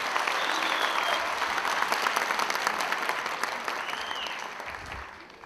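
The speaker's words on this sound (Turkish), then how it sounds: "Başkanı bir alkış istiyorum." Audience applause for the mayor at a Malatya community gathering in Başakşehir: thick, continuous clapping that runs strong, then tapers and fades in the final second.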